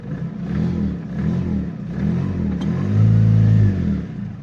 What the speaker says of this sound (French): je vais démarrer le moteur